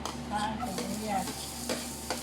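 Liver frying in a pan with onion, a low, steady sizzle with a few stirring scrapes, while faint speech can be heard in the background.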